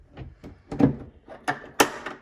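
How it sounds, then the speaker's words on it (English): A cabinet door is unclipped and removed from a Salice self-closing hinge, giving a close series of light clicks, knocks and wooden thunks, with a sharper snap near the end. "if you push that little tab and you push this door away, that way it comes off."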